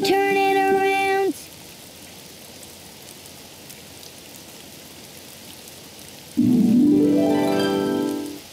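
Rain falling outside in a children's cartoon, a soft even patter that stays steady for several seconds between louder bursts of tonal cartoon music at the start and end.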